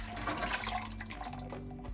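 Tomato sauce from garden tomatoes, run through a Squeezo strainer, pours into a pot of cooked garlic and onions for marinara: a steady, continuous liquid splashing and gurgling over a low constant hum.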